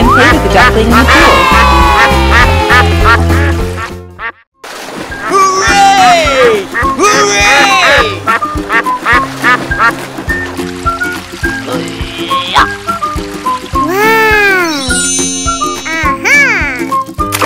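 A cartoon duckling gives a few short, bright quacks over cheerful, loud background music with chimes and tinkling effects, plus a brief silent gap early on.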